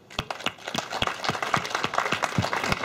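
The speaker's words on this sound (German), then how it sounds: "llen Dingen von Herrn Jens Rode von Zwickau, Werk Mosel, einen Applaus." Scattered clapping from a small crowd at a demonstration, individual sharp claps building into a steady round of applause.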